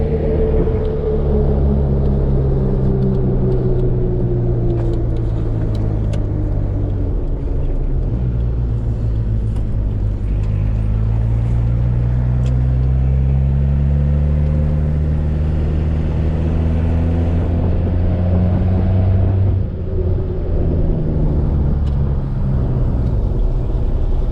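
Interior drive in a Suzuki Vitara just after a clutch repair: steady low engine drone and road rumble, with rising and falling engine pitch as it accelerates and shifts gears, no talk.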